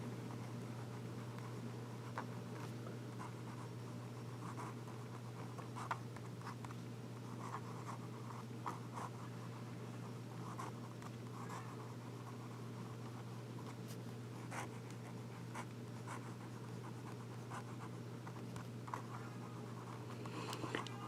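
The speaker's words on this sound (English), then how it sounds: "Let's do some reverse writing." Pilot Custom 74 fountain pen nib writing in reverse on paper, a steady faint scratching with soft intermittent strokes over a low constant hum, no talking.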